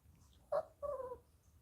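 A chihuahua indoors gives two quiet whines, a brief sharp yelp followed by a longer, drawn-out falling whimper, in an otherwise hushed room.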